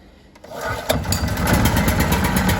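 A small petrol engine on a POWER BT-2500 generator pulls over, sputters and catches, then settles into a steady, loud running chug close by.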